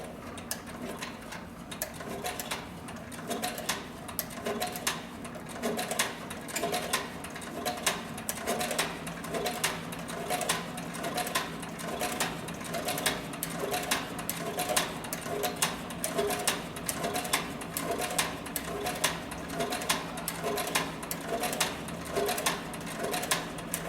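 An industrial sewing machine stitches through thick layers of heavy saddle skirting leather, producing a steady rhythmic mechanical chatter that runs on for more than twenty seconds at moderate volume.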